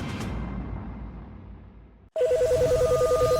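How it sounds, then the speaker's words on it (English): A phone at the NASA hotline rings in a steady pulsing electronic tone that starts abruptly after a quiet stretch and holds loud and close. "the NASA hotline is ringing off the hook"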